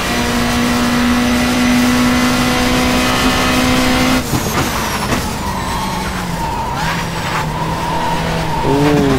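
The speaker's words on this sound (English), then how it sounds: "Ooh, drifting around that corner." Race cars in World Touring Car Champ 07 at the Curitiba circuit, a loud continuous engine drone with tires squealing and skidding as a car drifts through a corner, pitch shifting midway.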